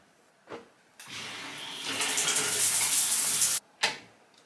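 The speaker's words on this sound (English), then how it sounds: "let's get in the shower." Shower water runs in a bathroom, a steady hiss that starts after a click, swells louder for a couple of seconds, then cuts off abruptly, followed by a couple of sharp knocks.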